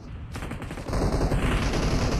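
Rapid bursts of gunfire and a heavy grenade blast rumble through a loud, chaotic PUBG Mobile battle, with dense low-end booms continuing after a sudden onset.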